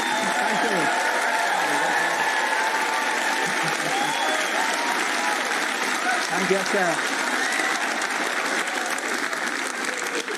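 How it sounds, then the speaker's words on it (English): Sustained studio audience applause at a television talk show, a dense, steady wash of clapping from a large crowd lasting throughout, with faint voices and occasional cheers underneath. "That's a lovely round of applause."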